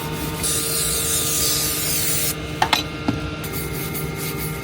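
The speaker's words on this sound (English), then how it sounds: "I've got my little wire brushes. And I'm just giving them a good scrub down." A wire brush scrubs brake discs with a harsh, bright rasp for a couple of seconds, then stops, followed by a few sharp metallic clicks and taps.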